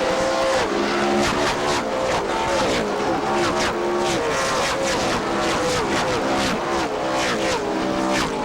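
NASCAR race cars at Bristol roar past in a continuous dense stream of loud engine howls, one car after another with overlapping rising and falling pitches as the whole field goes by.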